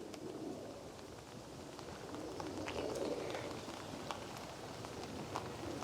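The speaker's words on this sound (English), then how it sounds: "I can still hear the birds chirping." Birds call and chirp intermittently over a steady wash of rain at a wild campsite in Wales, the calls moderately distant and not loud.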